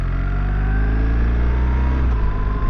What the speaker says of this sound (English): The bike is shifting up through the gears for me.